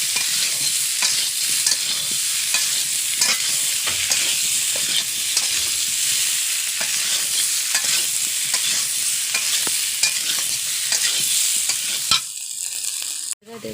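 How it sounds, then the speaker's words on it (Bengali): Potatoes sautéing in a pan with salt, turmeric and spices for a village-style aloo dum, with a steady loud sizzle and repeated stirring scrapes running throughout, ending in a brief stop. "দিয়ে আমি আর একটু কষিয়ে নেব।"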